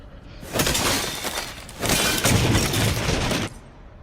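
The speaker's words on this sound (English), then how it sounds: "Shooting the glass can make an enemy fall through." Glass surfaces shattering under gunfire in a video game: two long, loud bursts of breaking glass, the second sustained with crackling debris, no talking.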